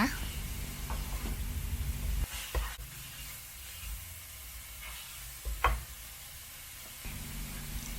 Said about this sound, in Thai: ผัดจนกว่าตัวสีหมูของเราจะเป็นสีชมพูอ่อนนะคะ